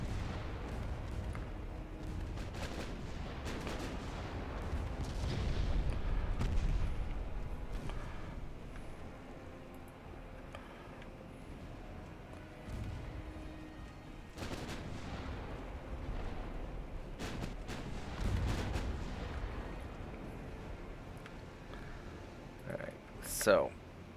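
Warship guns firing in Ultimate Admiral Dreadnoughts, deep booming blasts rolling out at intervals, with a heavier burst near the start and a sharp loud report near the end, over a low rumbling battle bed and occasional talk.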